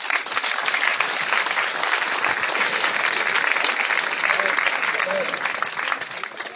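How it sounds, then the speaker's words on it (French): A church congregation applauds Jesus Christ with sustained, dense clapping and cheering that holds steady and loud from start to finish. "Est-ce qu'on peut acclamer Jésus-Christ?"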